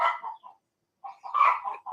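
Chickens cluck and squawk in short bursts close by, with a brief quiet gap between calls.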